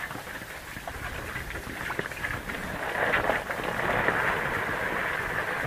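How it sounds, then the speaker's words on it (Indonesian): Heavy rain drums steadily on a leaking tent during a solo camping night, a dense continuous patter with dull thumps that grows slightly louder midway, heard alone without talk. "Hujannya lebat ya."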